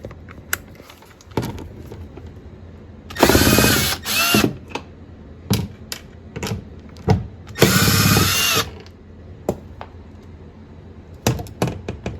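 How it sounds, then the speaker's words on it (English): A power drill whirs in two sustained bursts while removing bolts during Tesla door handle and soft-close door installation, with short trigger blips and tool clicks around them. "But yep, we'll take all the bolts off and pull it out."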